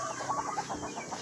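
A young Golden Boy SBR gamefowl clucks in a backyard pen, a run of quick soft clucks close by over steady background noise.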